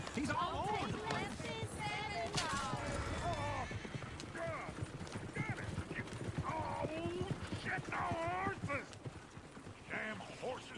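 Horses clip-clop and whinny in Red Dead Redemption 2, with dense hoof beats and neighs mixed around a coach, under steady voices of game characters talking.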